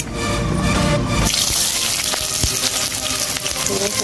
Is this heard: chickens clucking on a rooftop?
no